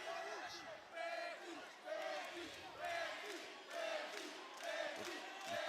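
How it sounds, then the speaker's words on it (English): Crowd at a live fight event cheers and shouts in surging waves, rising and falling in rhythmic chants and calls, a dense mass of voices heard from a distance at moderate level. "The crowd's trying to muster up the energy to push through a victory for Luke Burns."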